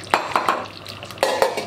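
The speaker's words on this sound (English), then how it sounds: "Stir everything, yeah? The stew is nearly done." A spoon stirring chicken stew in a pot, giving a few quick scraping knocks against the metal over a soft simmering hiss, close by.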